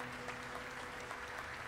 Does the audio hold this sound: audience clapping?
yes